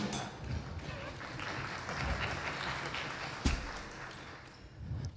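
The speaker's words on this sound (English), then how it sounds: "Give him a round of applause, please" Audience applause for a drummer at a live music show, steady dense clapping throughout with a sharp tap partway through.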